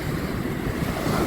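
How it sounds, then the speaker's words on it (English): Surging waves and churning rapids where an outflowing river meets the sea at its mouth, a close, continuous roar of rushing water mixed with wind buffeting the microphone, no voices. "So it's forming rapids."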